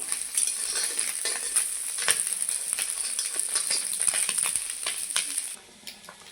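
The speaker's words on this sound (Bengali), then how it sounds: "আর যে মাছগুলো আছে ওগুলো ভেজে নেব" Small fish frying in oil in a pan for a gathi kochu and fish dish, giving a continuous bright sizzle with scattered crackles and pops, fairly close, before it drops off sharply near the end.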